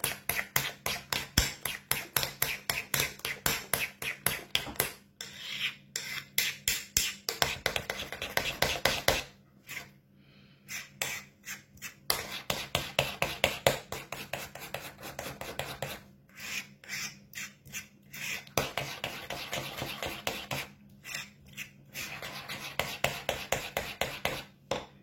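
Rice face mask mixture being stirred in a bowl, giving a steady run of close, rhythmic scraping and rasping strokes with a few short pauses.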